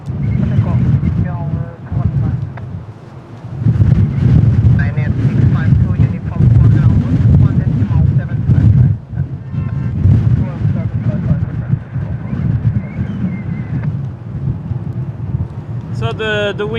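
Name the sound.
strong wind buffeting the microphone at Lisbon Airport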